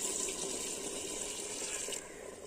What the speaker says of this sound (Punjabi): ਹੁਣ ਆਪਾਂ ਪਾਣੀ ਪਾ ਦਵਾਂਗੇ ਇਹਦੇ ਵਿੱਚ